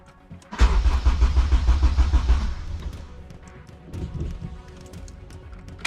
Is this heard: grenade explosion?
no